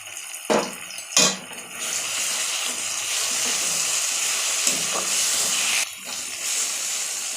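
Spice paste with chili powder fries in a pan for a crab dish, giving a steady, close hissing sizzle. A few sharp clatters punctuate it early on, and a brief dip comes near the end.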